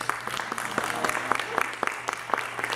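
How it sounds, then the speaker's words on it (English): Sparse, distinct claps ring out at a navy sailors' ceremony, individual hand strikes audible over a low background hum, fairly close and moderately loud rather than a dense roar. "Please give them a quick round of applause."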